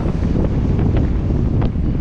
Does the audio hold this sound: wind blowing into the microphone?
yes